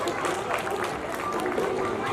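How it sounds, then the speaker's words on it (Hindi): Audience at a school annual function applauds a girls' performance, a continuous dense wash of clapping with some crowd chatter mixed in, fairly loud and steady. "तालियां बजती रहनी चाहिए."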